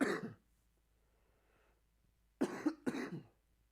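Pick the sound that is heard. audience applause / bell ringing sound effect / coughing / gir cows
coughing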